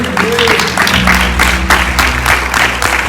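Applause from a congregation at a Sunday church service, a dense, loud, steady clapping from a crowd with music playing underneath, continuing throughout.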